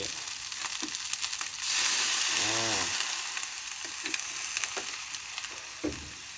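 Glass noodles stir-fried with egg and bean sprouts in a pan: continuous hissing sizzle with scraping stirs and clacks of a utensil, a louder burst of frying partway through, close and alone without talking.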